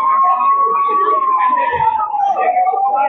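A siren wails during an emergency mock drill in Karnal as elderly people are moved to an ambulance, the tone sliding slowly downward beneath someone talking over it.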